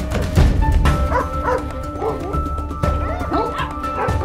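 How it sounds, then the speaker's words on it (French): Several dogs barking and yipping in a loud, continuous jumble during a chase, with a few whimpers mixed in and a voice talking over them. "les chiens avaient un autre objectif, bouffer Flo"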